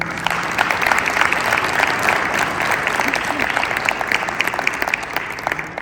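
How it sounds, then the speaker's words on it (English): A symposium audience applauds a revenue cycle panel with dense, loud clapping that stays steady throughout, a few voices faint beneath it. "Can we give them one more round of applause?"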